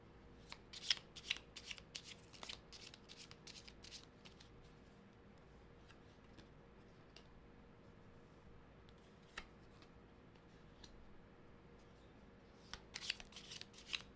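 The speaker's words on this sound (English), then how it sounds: "Actually, let's get 5 cards for AOC because I feel like this is a question with some nuance." A deck of tarot cards is shuffled repeatedly in quiet bursts of soft riffling and flicking, close but faint, with a calmer stretch in the middle and a busier flurry at the end.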